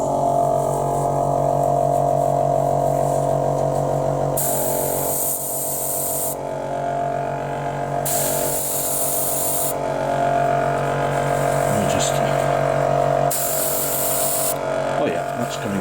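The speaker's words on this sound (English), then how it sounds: "I'm about to switch the compressor on, so that's the last you'll hear of me for a wee while." An airbrush compressor hums steadily with a low, constant drone while paint is sprayed on a model ship. Several bursts of airy hissing spray come and go on top of it.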